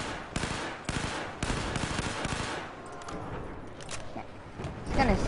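Rapid automatic gunfire in the Battlefield 4 video game rattles out in dense bursts, loud and close, with a few short pauses between volleys.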